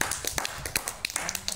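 Scattered hand claps from a small audience at a Nahdlatul Ulama branch conference of PCI NU Tunisia, greeting Kang Amin Habibie; a brief, uneven patter of sharp claps, fairly close and moderately loud.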